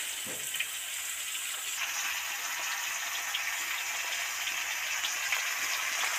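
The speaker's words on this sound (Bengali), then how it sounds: "মাছগুলো ভালো করে ভেজে নিলাম ডিপ ফ্রাই করে" Large pangas fish pieces deep frying in hot oil for a fish curry, a continuous dense crackling sizzle with fine bubbling hiss, steady and close, no voices.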